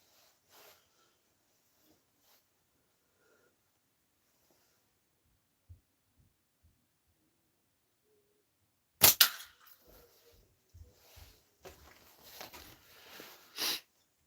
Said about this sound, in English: We just shooting in the cold, bud.